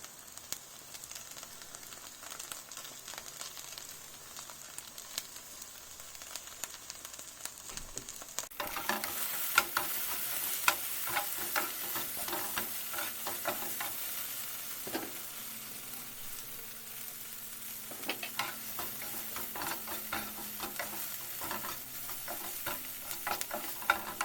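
Okra (lady's fingers) sizzles and fries in a pan while a dry spice masala with mango powder is stirred through. Quiet at first, then a steady broadband sizzle starts suddenly and continues, with irregular scraping stir strokes throughout.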